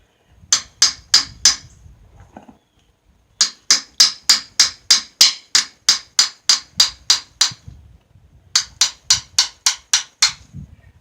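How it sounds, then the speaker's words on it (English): A small hammer tapping on a Harley engine cylinder in three quick bursts of sharp metallic taps, evenly spaced and close, with short quiet gaps and faint shuffling between them. "Now be careful when you're using a regular hammer"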